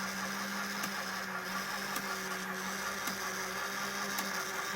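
A Fleischmann 6052 model railway turntable, its repaired motor turning steadily with a constant mechanical whir and hum, plus a faint regular tick roughly once a second, heard alone without talk.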